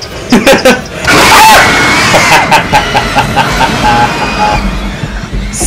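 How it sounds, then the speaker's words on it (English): A person lets out a loud, sustained scream while playing the horror game Until Dawn, with rapid gasping and excited vocal outbursts around it and game sounds underneath. "I probably have to edit that scream out"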